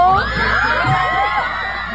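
Fans scream and cheer loudly at a concert, a dense, high-pitched crowd roar with shrill individual shrieks rising and falling throughout.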